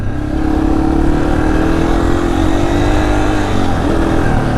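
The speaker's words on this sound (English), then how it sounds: "It's a pretty quiet bike." A Yamaha TTR230 dirt bike engine runs steadily while being ridden, a loud, close, continuous drone with a slight rise and fall in pitch.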